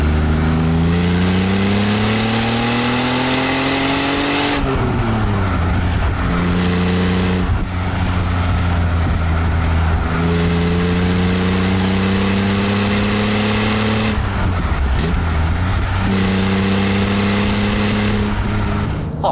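A 1980 BMW E23 735i with a manual gearbox accelerates hard on an open road, its engine climbing in pitch through each gear, then dropping briefly at a few quick shifts before pulling strongly again, loud and close.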